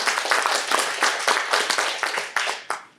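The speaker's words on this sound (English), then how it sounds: "A great round of applause to our speaker today for wonderful work." An audience at a Toastmasters-style club meeting applauds a speaker, dense rapid hand clapping that stays loud and close for a few seconds before tapering off.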